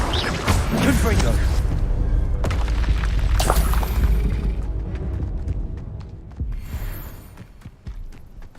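A Confringo blasting curse explodes in the video game Hogwarts Legacy, a loud deep boom with whooshing debris and rumble that gradually fades, followed by scattered clattering effects.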